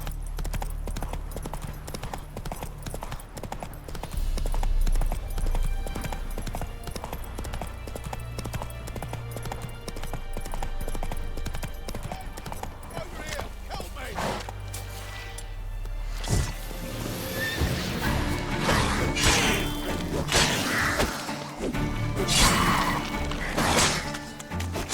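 A horse in The Witcher 3: Wild Hunt gallops in a steady clip-clop of hooves, with heavier thuds in the later seconds and a game soundtrack underneath.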